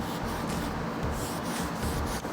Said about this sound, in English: I'm just gonna take the interior ceramic and spray directly onto the surface